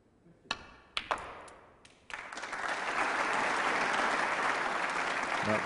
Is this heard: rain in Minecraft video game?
no